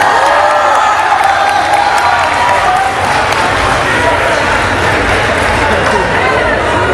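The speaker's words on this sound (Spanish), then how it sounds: "Un aplauso para ella, por favor." An audience at Expogame Temuco 2017, a gaming convention event, claps and cheers in a dense, sustained wash of applause, with a voice talking loudly over the crowd noise.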